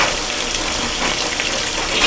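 Cold water runs from a tap in a steady, loud, even rush of splashing flow, with no voices over it.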